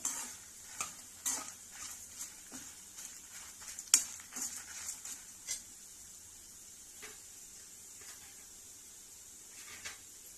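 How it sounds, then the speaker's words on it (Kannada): Spices frying on a low flame in a pan for Mangalore-style cucumber sambar, a faint sizzle with scattered stirring scrapes and light utensil taps, heavier early, then quieter. "ಕಮ್ಮಿ ಉರಿಯಲ್ಲಿ ಫ್ರೈ ಮಾಡ್ಕೊಳ್ಳಿ"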